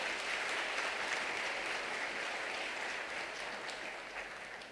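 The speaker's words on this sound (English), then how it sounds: "Ladies and gentlemen, a round of applause for Neak Oknha, Kith Meng." Audience applause for Neak Oknha Kith Meng after his speech at an ASEAN business summit, a broad sustained clapping that starts full and slowly tapers toward the end.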